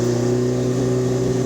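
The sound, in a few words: exhaust note of a 1976 Alfa Romeo GTAm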